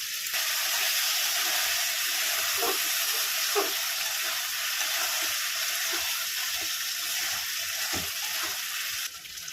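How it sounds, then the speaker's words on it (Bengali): Spice paste of cumin and tomato sizzles in a pan as a splash of water goes in, a steady close hiss with small pops and bubbling throughout. "মশলার বাটিটা ধুয়ে আমি একটু জল দিয়ে দিলাম"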